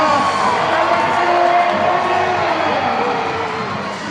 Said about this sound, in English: give yourselves a round of applause, Savannah.